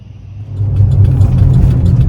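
Steady low engine drone of a car driving, rising a little in the first second and then holding a constant, fairly loud hum with no talk.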